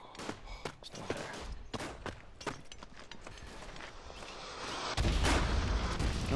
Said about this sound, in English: their artillery was a little short